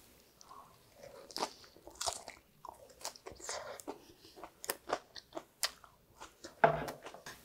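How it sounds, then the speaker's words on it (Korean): Crunchy salad with yuzu dressing eaten up close, with a run of crisp bites and wet chewing crunches at an uneven rhythm, some sharper than others, and no talking. "네, 유자청 소스를 먹어볼게요."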